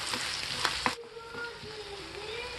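Chopped tomatoes go into a hot pan over high flame for soya Manchurian, and a loud burst of sizzling settles into steady frying, with a faint tonal squeal running underneath.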